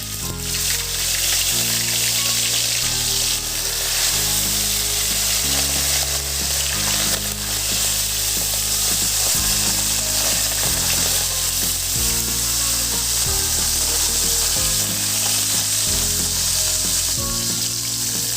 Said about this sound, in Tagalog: Iprito muna natin itong galunggong.